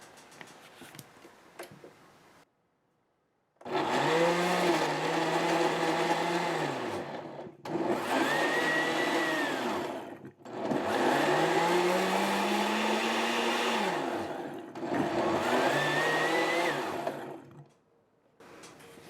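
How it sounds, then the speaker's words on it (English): A blender whirs loudly while blending green sauce ingredients with pepper flakes, running in four long bursts separated by brief pauses, its motor pitch sagging and recovering under the load. "And we blend."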